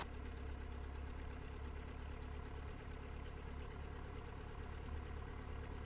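A Cessna 172 piston engine idles in a steady, low, even drone that holds unchanged throughout, close and fairly quiet, with no talk over it.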